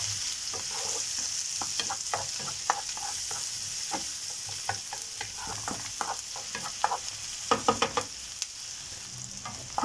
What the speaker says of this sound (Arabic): هننزل ببصلة متقطعة مكعبات صغيرة ونشوحها في قلب الزيت والسمنة لحد ما توصل للون الذهبي الفاتح خالص